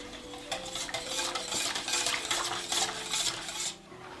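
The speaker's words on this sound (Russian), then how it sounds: "Струйкой вливаем. И все хорошо смешиваем." Batter mixed with oil and boiling water stirred in a bowl, a busy wet clicking and scraping of the utensil against the sides, close and continuous, fading out at the end.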